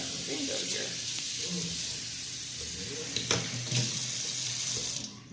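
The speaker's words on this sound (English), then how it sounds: "I add a cup of water." Water runs steadily from a tap or is poured into a cup while cooking a plant-based greens dish, a continuous close splashing hiss with faint clinks and brief rustles.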